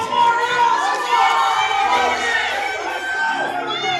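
Crowd cheering and shouting in support of a lifter's final deadlift attempt of 205 kilograms at a USAPL New Jersey state powerlifting meet, a steady roar of voices with whoops.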